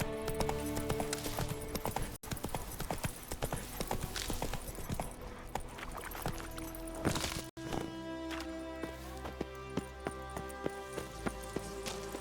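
Horse hooves clip-clop steadily and close in The Witcher 3: Wild Hunt Next-Gen, the rhythmic footfalls running nearly continuously over dense game music and effects, with a brief whinny-like sound possible.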